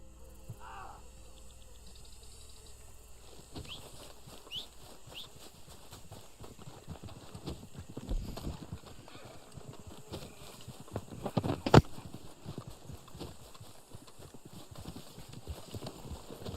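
Horse hooves clop along steadily in the Red Dead Online video game, a soft continuous trotting rhythm with faint insect-like chirping in the background and a brief sharp click partway through.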